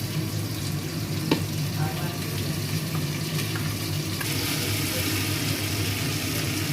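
Drumstick vegetables sautéing in a pan, a steady moderate sizzle with a low background hum and a few faint clicks of a utensil, close and continuous without speech.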